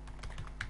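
A few quick, faint keystrokes are tapped on a computer keyboard while writing an email, in a short, close burst.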